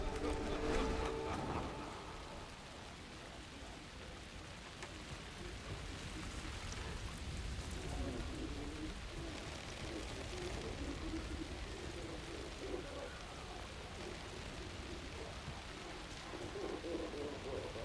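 Steady rain falls in the horror video game Alan Wake 2, a continuous hiss of drops on surfaces with faint low rumbles, holding at an even level for the whole stretch with no talk.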